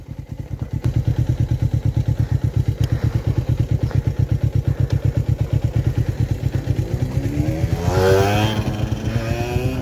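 A motorcycle engine idles loudly and close, with a steady, rapid pulsing beat that holds for several seconds before a brief rev near the end, heard alone with no talk.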